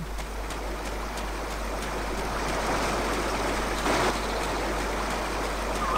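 Steady flowing water from a stream in the Indiana Jones and the Infernal Machine-style PC adventure game, a continuous broadband rush that stays even and fairly loud throughout with no talking.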